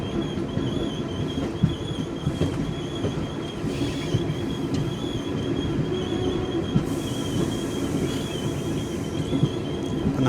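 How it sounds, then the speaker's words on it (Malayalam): The Koyna Express rolling into Sangli station, heard from inside an AC chair car as a steady rumbling clatter of wheels on rails with intermittent squeals, close and continuous throughout. "നമ്മൾ ജസ്റ്റ് സാംഗ്ലി സ്റ്റേഷനിലേക്ക് എത്തുന്നു."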